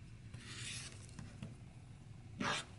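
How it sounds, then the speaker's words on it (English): Rotary cutter trimming the sides of a fabric hourglass quilt block along a ruler, heard as soft rasping scrapes with a sharper, louder cutting swipe near the end; quiet and close, with no talk. "That diagonal line should be still following my seam, and I can trim the other two sides."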